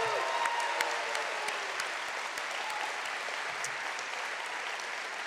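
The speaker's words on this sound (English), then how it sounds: "let's give these first-timers a huge round of applause and welcome" A large convention crowd at a Liberal party gathering applauds first-timers, a broad, even roar of clapping that sounds distant and diffuse across a big hall, gradually easing.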